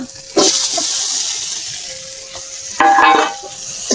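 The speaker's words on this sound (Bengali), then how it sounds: "একটু ভালো করে নেড়ে চেড়ে কষিয়ে নেব।" Fried potato stirred into mustard paste and melted tomatoes in a pan gives a steady close sizzle, with two louder bursts of scraping and spluttering as the spoon turns the mixture.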